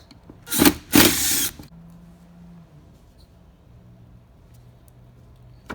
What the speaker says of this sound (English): let's go ahead and remove the screws using a T15 Torx bit